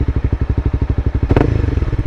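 A motorcycle idles in neutral with a loud, close, lumpy rhythmic thump, then briefly revs with a quick clutch and throttle flick and settles back to a faster, uneven idle.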